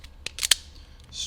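A few sharp, close snips cut through green car stereo wire, two or three quick clicks in a short burst against a quiet background.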